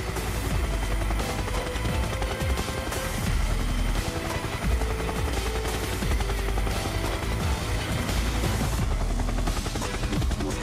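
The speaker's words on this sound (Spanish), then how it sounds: "esperar el regreso del helicóptero que, una vez más, repite la arriesgada maniobra de aproximación." Loud, steady helicopter rotor chop with a dense engine roar during a mountain rescue approach, close and continuous without letup.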